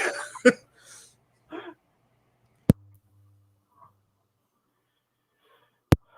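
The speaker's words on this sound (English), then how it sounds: "Excuse me as I cough up a lung here." A few rough coughs and throat-clearing bursts near the start, then two sharp isolated thumps separated by quiet gaps.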